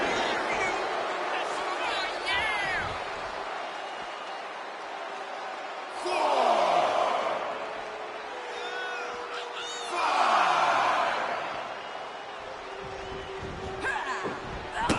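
Arena crowd in the wrestling video game WWE 2K26 keeps up a steady roar, swelling into two louder cheering surges, with commentary voices talking over it throughout.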